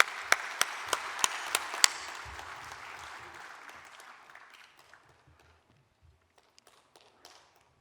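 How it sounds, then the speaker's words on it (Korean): An audience at a church pastors' and elders' prayer meeting applauds to welcome a former education minister, now a church elder, to the lectern. Brisk, dense clapping with a few sharp individual claps fades out over about four seconds, leaving faint scattered taps. "우리 뜨겁게 박수로 환영하십시다"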